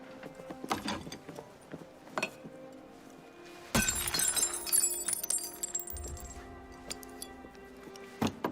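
Glass shatters in an Assassin's Creed Syndicate cutscene, a sudden bright crash in the middle of a quiet scene, followed by scattered clinks and small mechanical sounds.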